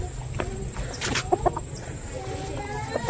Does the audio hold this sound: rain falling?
no